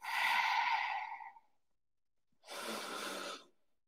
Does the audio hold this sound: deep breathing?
yes